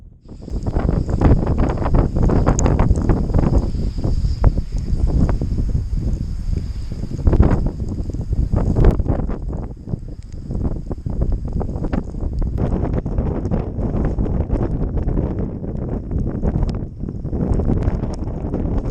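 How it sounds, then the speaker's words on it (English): Strong, gusty wind from Storm Dennis buffets the microphone while cycling on an exposed Pennine plateau, a loud continuous roar with sharper gust thumps throughout, no voices. "it was extremely tough going in the wind here"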